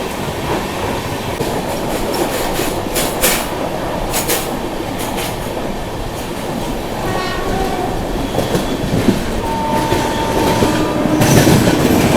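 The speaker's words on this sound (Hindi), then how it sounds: "ये देखो ये मालगाड़ी चल रही है बगल वाली लाइन पर" A freight train hauled by four locomotives rolls past on the adjacent line of a ghat section, a loud continuous rumble and rattle of wagons with clacking wheels, a brief squeal and occasional horn-like tones.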